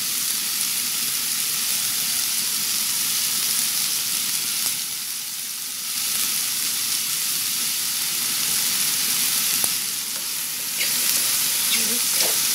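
Vegetables with red radish sizzle and hiss steadily in a hot pan during a vegetarian crispy mixed-noodle stir-fry, with a constant, close frying crackle and occasional stirring scrapes.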